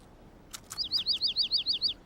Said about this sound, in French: content d'entendre le petit oiseau gazouiller